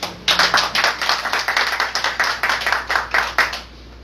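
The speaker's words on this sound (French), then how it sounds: "Je vous demande d'applaudir encore une fois." An audience claps steadily for about three and a half seconds, a fairly loud, even patter of many hands that stops cleanly at the end.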